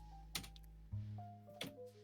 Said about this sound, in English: I hear the angry typing